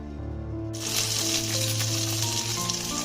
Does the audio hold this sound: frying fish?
yes